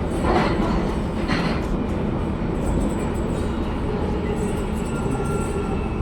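Steady rumble and rattle from inside a moving UK passenger train, loud and continuous, with faint wheel noise and no talk.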